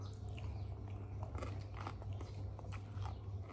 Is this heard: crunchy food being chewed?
yes